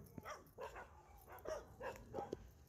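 A friendly dog on a hillside plot near the sea at Cô Tiên mountain, Vĩnh Hòa, Nha Trang, gives several faint, soft yips and whimpering barks spread across a quiet outdoor scene.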